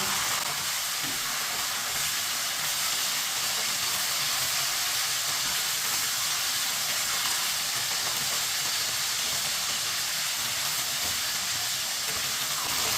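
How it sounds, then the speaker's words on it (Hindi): Chicken fries in a pan for chicken bhindi, giving a steady, even sizzle and hiss that holds unchanged throughout, fairly quiet and with no one talking. "अब ये वाली साइड से भी 2 मिनट के लिए फ्राई होने देते हैं।"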